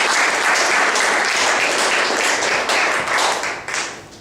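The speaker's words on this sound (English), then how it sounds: "Let's give a round of applause for the" Steady audience applause fills a mentorship program kick-off event, dense clapping held throughout and tapering off near the end, with no talk over it.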